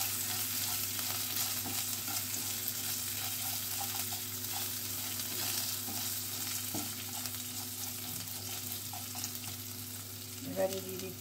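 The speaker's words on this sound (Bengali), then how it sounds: "কয়েক সেকেন্ড একটু নাড়াচাড়া করে নিতে হবে" Food fries in a pan with a faint, constant sizzle while it is stirred now and then, quiet clinks and scrapes sounding against a low background hum.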